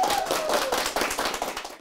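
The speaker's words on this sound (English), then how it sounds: "Can we give her a round of applause?" Applause for a veteran teacher at a school recognition event, a dense patter of many hands clapping steadily and fairly close, fading slightly toward the end, with no voices over it.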